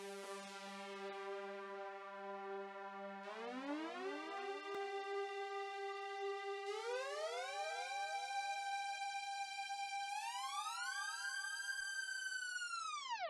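An 80s-style Serum lead synth preset in FL Studio slides upward in octave steps, a bright, buzzy tone gliding higher in stages before cutting off, heard alone with no voices.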